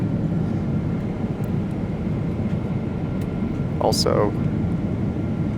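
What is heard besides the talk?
airplane cabin noise during flight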